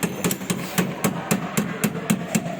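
Plastic hammer tapping out a transmission fork lock pin on a Toyota Avanza gearbox in a workshop, about a dozen sharp, evenly spaced taps, close and fairly loud, with no talking.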